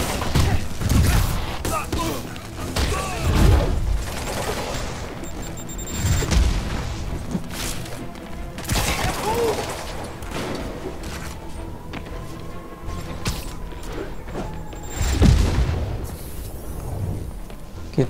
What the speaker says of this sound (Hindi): कितना मिसाइल छोड़ोगे रे रुको